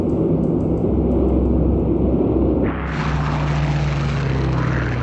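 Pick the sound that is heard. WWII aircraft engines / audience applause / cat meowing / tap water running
WWII aircraft engines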